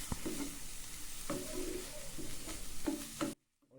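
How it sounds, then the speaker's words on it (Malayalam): Grated coconut is stirred into a sizzling fenugreek leaf thoran, with a low hiss and scraping spatula strokes nearby, a bird cooing faintly in the background, before everything cuts to silence. "ഇത് നന്നായിട്ടൊന്ന് ഇളക്കി യോജിപ്പിച്ച് കൊടുക്കണം"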